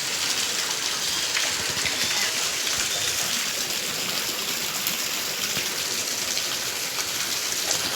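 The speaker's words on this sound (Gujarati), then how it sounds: "વરસાદ અમારે બહુ આવ્યો હતો જો બધું ઉપરથી પાણી પડે" Steady, heavy rain pours down in a dense, continuous hiss that stays loud and even throughout, with water falling from above.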